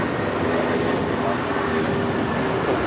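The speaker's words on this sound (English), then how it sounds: "We have a United 757-300 now rolling." United Airlines Boeing 757-300 bound for Chicago rolling for takeoff at Los Angeles airport, a loud continuous engine roar with faint tonal whine, heard under talking voices.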